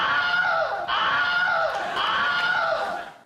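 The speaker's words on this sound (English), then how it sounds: "a scream sound effect that has appeared in over 150 films to date. It's called the Wilhelm scream." The Wilhelm scream plays as a stock film sound effect, a loud, high, anguished male shriek repeated several times in quick succession with little pause between cries.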